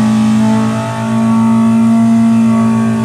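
A Polaris Pro R Big Bore engine fitted with a 3D-printed throttle body revs loudly and close up, holding a steady high-idle drone with a brief dip, with no talking.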